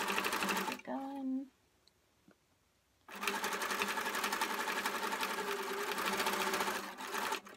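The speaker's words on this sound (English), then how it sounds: "I'm just going to sew right over my start a little bit, and then I'm done." A sewing machine stitches fabric for a car catch-all in steady, whirring runs, stopping for a couple of seconds before starting again. A voice briefly speaks near the first stop.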